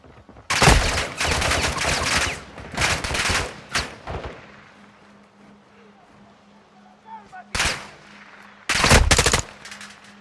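Heavy automatic gunfire in Modern Warfare 2 aims at an incoming missile: loud, sustained bursts broken by short pauses, then two more sharp bursts near the end over a low steady hum.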